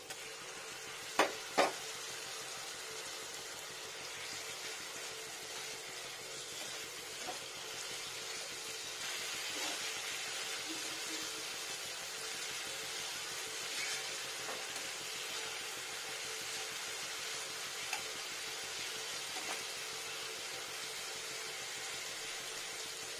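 Tomato paste sizzles steadily in a hot pan while chicken kofta curry cooks: a continuous broad frying hiss, a few sharp clinks near the start, with occasional soft scrapes and pops.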